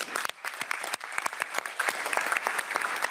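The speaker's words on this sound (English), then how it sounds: "A big round of applause to all our panelists." Audience applause for conference panelists after a discussion on EU genomic techniques law, a steady patter of many hands clapping at moderate level with scattered sharper claps, no talk over it.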